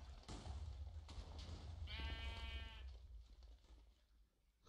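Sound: sheep bleating in a video game

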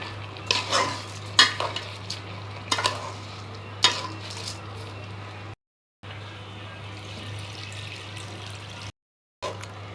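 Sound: stirring rice and spices in a pot for khichuri

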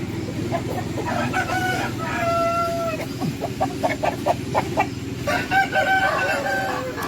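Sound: roosters crowing and clucking

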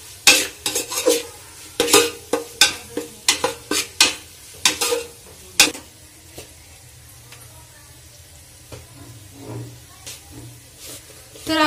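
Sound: vegetables being sautéed and stirred in a pan

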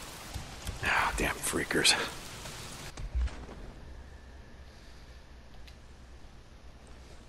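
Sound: rain falling in the video game Days Gone

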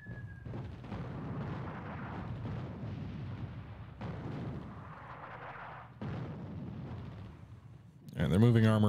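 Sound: enemy strike explosions in WWII game Attack at Dawn: North Africa

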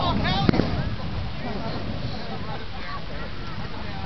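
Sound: bowling ball mortar firing

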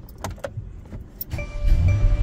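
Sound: Mercedes-Benz car engine starting

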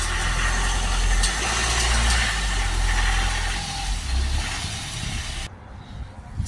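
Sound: van engine running as it is driven up onto ramps

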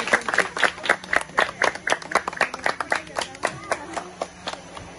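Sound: audience applause for girl athletes

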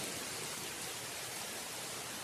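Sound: heavy rain

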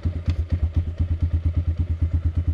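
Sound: motorcycle engine idling roughly

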